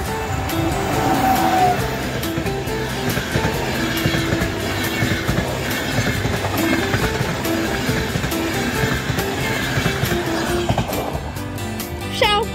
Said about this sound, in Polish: Pociąg kolei Dolnośląskich relacji Wrocław Główny Lubań Śląski.